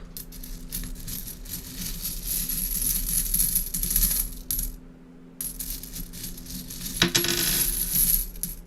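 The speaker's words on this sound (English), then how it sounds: "I have coins right in front of me." Loose coins from grocery store cart work being shaken and jingled close up, a dense metallic rattle running on with a short pause and a sharp bright clink near the end.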